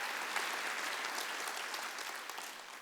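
A church congregation at a Wednesday worship service claps together, a quiet, distant and steady patter of many hands that tapers slightly toward the end.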